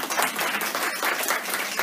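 Applause from the audience at a first general meeting of the PFWS, a steady dense patter of many hands clapping throughout, fairly close and even in loudness.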